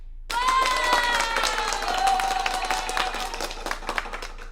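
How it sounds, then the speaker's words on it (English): Applause sound effect triggered from a live stream's applause button, starting abruptly and holding as a dense, even clapping wash with a whistling tone riding on it, loud and close. "Oh, where's my applause button on this live stream thing?"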